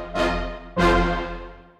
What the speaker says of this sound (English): Heaviosity Foundation Staccato Brass for the Free Contact Player are short, bombastic shorts.